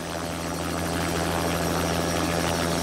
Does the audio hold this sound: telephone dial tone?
no